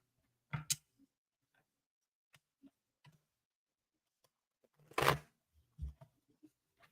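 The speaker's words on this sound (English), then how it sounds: "Oh, that was a good shuffle." A deck of tarot cards is shuffled indoors in two short riffled bursts, each a quick dense flutter of card edges, with a few soft taps and clicks in between.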